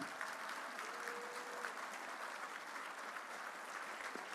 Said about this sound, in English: One more round of applause for all of these 8 wonderful inductees.